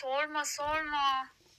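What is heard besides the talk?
None of the usual background noises is heard.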